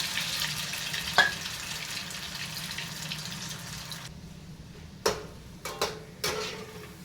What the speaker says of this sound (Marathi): तेल आपल्याला तापलेलं आहे तर हे छोटे छोटे गोळे तयार करून घेतलेत ते मी आता तेलात सोडत आहे